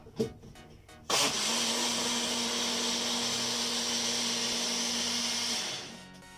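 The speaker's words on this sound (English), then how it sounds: "I just want to grind it up and give a starting mix" A blender grinds crepe batter in a steady, loud whir that starts abruptly after a few soft knocks, holds for about five seconds, then spins down.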